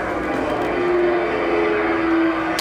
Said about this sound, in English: the plane over there is making some noise